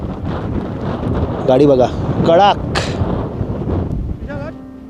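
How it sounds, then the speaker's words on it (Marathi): Strong cold mountain wind in Spiti buffets the microphone in loud, gusty bursts, with a person talking over it and a few sharp wind thumps. "वारा आहे, जास्त वेळ बाहेर राहू शकत नाही कारण वारा खूप आहे."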